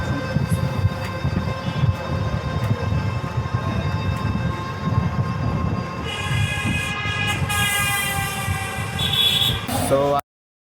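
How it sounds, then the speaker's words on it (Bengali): A Dhaka metro rail train sounds a sustained, tonal horn near the end, over steady rumbling running noise and busy street ambience, with a voice talking throughout. "তো মেট্রো রেলে উঠবো।"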